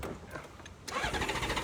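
A motorcycle engine cranks and catches on a cold start with some choke, then settles into a steady, pulsing idle while it warms up in neutral, close and moderately loud.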